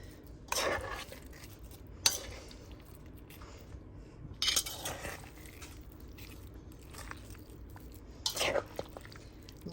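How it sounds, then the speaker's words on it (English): A spoon mixes about three pounds of beef with spices, adobo and chili peppers, making soft, wet squelching with occasional sharper scrapes and clinks against the bowl, close and fairly quiet, with no talk. "Now we're going to get this all mixed up together."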